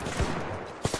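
Video game gunfire crackles in a dense stretch of shots, closing with a few louder, punchy bursts near the end, with no talking.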